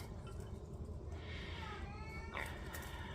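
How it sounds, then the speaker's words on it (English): A house cat meows in the background, a rising, wavering call near the middle followed by a sharper cry, faint under a steady room hum. "Sorry if you can hear the cat in the background."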